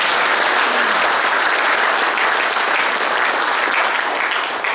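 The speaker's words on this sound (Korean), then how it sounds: "다시 한번 최종대 회장의 출발에 큰 힘을 주는 의미에서 박수를 부탁드립니다." Audience at a Korean military academy alumni association inauguration ceremony applauding the new president, a dense, steady round of clapping from a large indoor crowd, loud and continuous.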